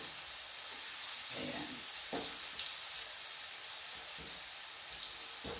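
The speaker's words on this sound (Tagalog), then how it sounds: "Gisa lang natin siya." Something sautéing in a pan crackles and hisses softly and steadily, fairly faint, with a brief spoken word over it.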